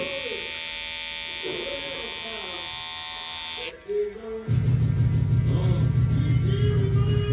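Slimline Pro GTX hair clipper with a deep tooth GTX blade switching on and running: a steady, close electric buzz that starts partway through after quieter background sound.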